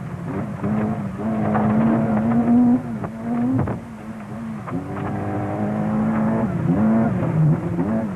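A 1989 rally car on the Harewood stage roars past close by, its engine revving hard and rising and falling through gear changes with brief lifts between pulls, loud and continuous throughout.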